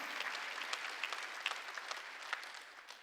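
A church congregation claps during a Sunday worship service, a steady, fairly faint patter of many hands with a few sharper claps standing out.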